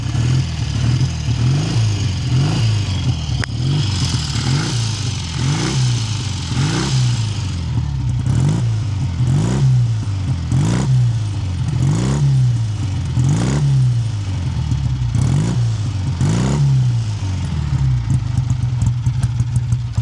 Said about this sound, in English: It'll take a little bit of warming up being a British bike, but it seems to tick over-ish.